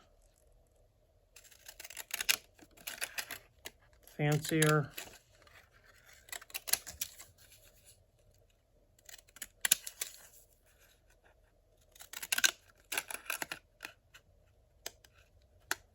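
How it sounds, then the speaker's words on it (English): Several crisp snips of scissors cutting through paper, in short bursts spread across the clip, with a person talking quietly in between. "I'll cut it out with these scissors"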